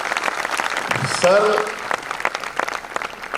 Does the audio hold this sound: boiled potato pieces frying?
no